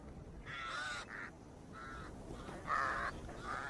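Several crows caw in harsh, bursting calls, grouped into about four loud phrases over steady open ambience near lions feeding on an oryx kill in the desert.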